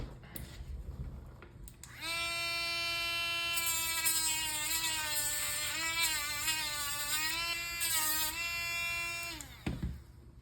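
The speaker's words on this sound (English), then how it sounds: "So let's go ahead and Dremel that down a bit." A Dremel rotary tool grinds down a pin on an action figure arm, a close steady high-pitched whine that wavers in pitch as it bites. It runs for about eight seconds, then cuts off.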